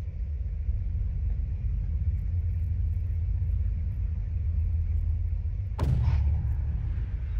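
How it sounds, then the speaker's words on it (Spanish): Arena explosion in the space game EVE Online during a Caracal cruiser fight: a steady low engine rumble runs throughout, then a sudden sharp blast hits near the end and rings out over the drone. "fue una explosión de esas que hay en la arena"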